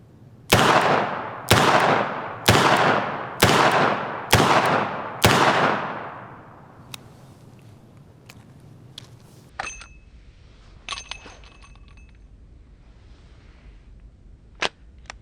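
Six loud gunshots from a lightweight Chiappa Rhino .357 Magnum revolver ring out close by at a steady pace of about one per second. Quiet clicks and handling noises follow.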